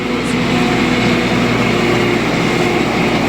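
MTZ 892 tractor engine running, a steady loud diesel drone with a constant low hum, close by and unchanging throughout, with no talking.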